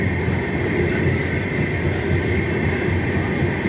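A Shatabdi superfast express hauled by a WAP7 electric locomotive rushes past on the Chennai–Bangalore line, a loud continuous roar of wheels and rail noise up close.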